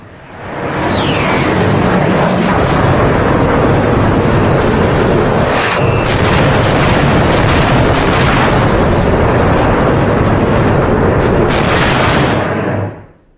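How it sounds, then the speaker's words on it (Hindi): A bunker buster bomb blast tears through a tunnel, giving a dense, sustained roaring boom with crackling bursts that holds loud and steady for many seconds before cutting off abruptly. "यहां पर अमेरिका ने बंकर बस्टर बम दागा है"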